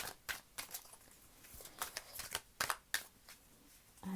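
Tarot cards being shuffled by hand, a quick series of crisp riffling and slapping bursts, close and fairly quiet with short pauses between.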